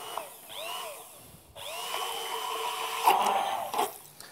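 A Bamix immersion blender runs while being rinsed clean, giving a whining motor buzz that starts, cuts out briefly and restarts with shifting pitch, louder splashy churning near the end.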